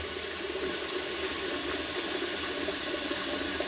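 Tap water running into a sink, a steady continuous splashing stream with no talking.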